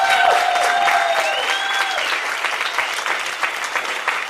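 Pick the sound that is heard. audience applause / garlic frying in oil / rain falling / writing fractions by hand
audience applause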